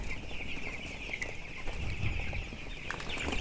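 Broiler chickens on a poultry farm clucking continuously, a steady busy flock chorus with a constant high hum running underneath, no talking.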